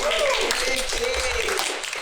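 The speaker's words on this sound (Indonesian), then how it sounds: "Ayo tepuk tangan teman-teman." Studio audience at an Indonesian TV talk show clapping in a steady, dense patter, with voices speaking and calling out over it throughout.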